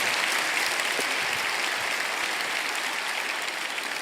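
Steady, dense applause fills a church congregation for the whole stretch, loud and unbroken, with no voices on top.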